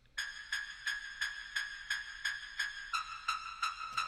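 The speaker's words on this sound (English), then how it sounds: "I have this cool little wonky sound that I made." A wonky synth sound in the drop of an electronic track pulses in about a dozen evenly spaced, bright bursts with a slight swelling decay, shifting pitch near the end, alone and moderately quiet.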